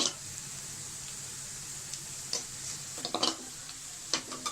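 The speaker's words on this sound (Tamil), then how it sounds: "நல்லா செவக்க வதக்கணும்." Ingredients for a mango fish curry sauté in a pan under a low, steady sizzle. Light clicking stirs and spatula taps come and go, growing busier toward the end.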